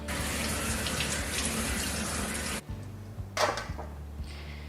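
Zucchini are washed under a kitchen tap. Loud running water gushes steadily, then cuts off, leaving faint drips and a brief splash.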